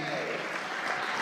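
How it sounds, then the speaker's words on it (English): Applause from the audience at an interfaith conference in the nation's capital, a dense, steady roar of clapping hands filling the whole moment without letup. "you should give yourself a big hand clap of all the wonderful people that are here today"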